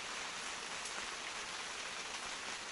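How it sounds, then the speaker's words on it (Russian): Heavy, steady downpour of rain drumming outside at an ice-fishing camp in winter, a dense continuous hiss with no voices. "Да, ребята, ливень просто начался. Вообще капитальный."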